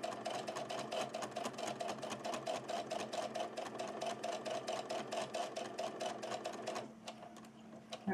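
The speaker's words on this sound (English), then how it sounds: "continue sewing until you make it all the way" A home sewing machine stitches around a shoulder tote bag in a fast, steady run of close needle strokes, running nearly continuously before stopping near the end, with no talk over it.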